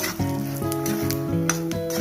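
Peanuts fry in a pan with a steady, close sizzle beneath a repeating tonal background hum.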